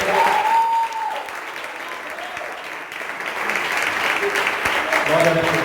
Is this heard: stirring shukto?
no